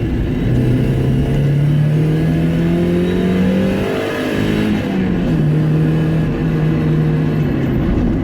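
A turbocharged Mazda MX-5 accelerates hard to 60, its engine note climbing steadily through the gears with a brief dip at a shift, loud and close throughout.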